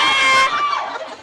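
A fan meet crowd screams and cheers in a loud, dense burst that fades quickly within about a second.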